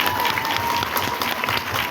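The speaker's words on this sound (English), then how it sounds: "One more round of applause for that." A crowd applauds steadily, a dense wash of many hands clapping at once that stays at an even, fairly loud level throughout.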